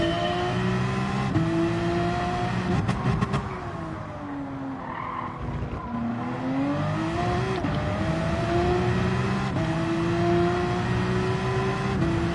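Porsche race car in Gran Turismo 7 at Laguna Seca, its engine droning steadily with rising and falling pitch through gear changes, accompanied by tire squeal and skidding, loud and continuous throughout.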